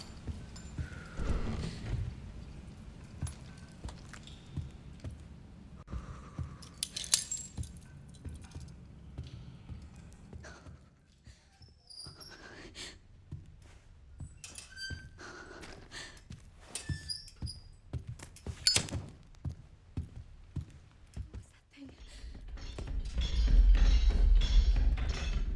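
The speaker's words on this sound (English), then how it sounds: "the thumping footsteps of the cute goat lady that's chasing you" Heavy thumping footsteps from the video game Resident Evil Requiem, a goat-like pursuer closing in, a run of irregular close thuds and clops over a dark, low rumbling ambience.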